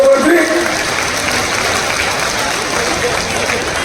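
A crowd at a political rally breaks into loud, dense applause close by, with a voice briefly heard at the start before the clapping settles into a steady wash.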